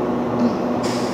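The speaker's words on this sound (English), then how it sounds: "got the opportunity to ride with the only locomotive in the world that I love and care about" Twotenny train locomotive heard up close as a steady, loud rumbling drone with a faint tonal hum, continuous for about a second with no voices.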